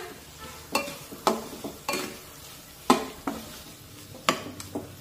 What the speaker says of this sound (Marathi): आणि हे वाटण सुद्धा छानपैकी परतून घेऊया।